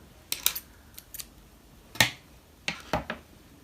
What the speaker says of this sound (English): you get your scissors and cut with maybe like a small amount left